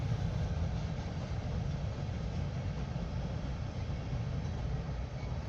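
A train passing in the distance beside the Clinch River at a rail-watching spot, a steady low rumble with broadband noise holding at an even level throughout, no voices.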